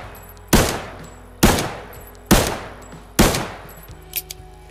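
A newly added firearm in the shooter Arena Breakout fires four loud, evenly spaced single shots, each a sharp crack with a short decaying tail, followed by faint mechanical clicks.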